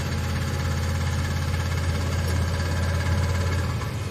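A steady, loud car engine running with a low rumble and a persistent rhythmic knocking beneath it, from a suspected bad rod bearing or bent rod, continuous throughout without any talking.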